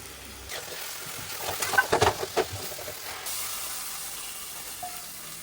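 Aval stirred in a pan with curry leaves and coconut oil gives a faint steady sizzle, with a cluster of sharper scraping stirs and crackles in the middle before settling back to a soft hiss.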